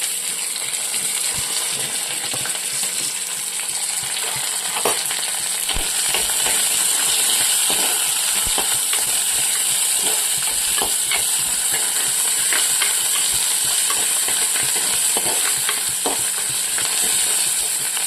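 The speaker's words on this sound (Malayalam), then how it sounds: "ഇനി നമുക്ക് ഉള്ളി കരിയാപ്പില പച്ചമുളക് ഇട്ട് കൊടുക്കുകയാണ്" Onions, curry leaves and green chilies fry in hot oil for a prawn and banana curry, a loud, steady close sizzle with frequent clinks and scrapes of a stirring spoon throughout.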